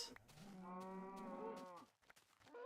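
A cow in the video game Minecraft lets out one drawn-out, clear moo at moderate volume, with short clicking sounds before and after it.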